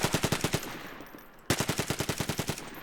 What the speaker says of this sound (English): It sounds like an MP40 or something like that.